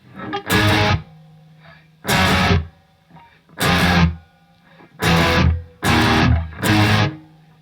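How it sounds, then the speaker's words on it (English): Electric guitar through an MXR distortion pedal, with no noise gate, plays six loud, gritty bursts separated by short pauses, with a faint hum and ringing between them. "without the gate on, just the distortion, here's what we have."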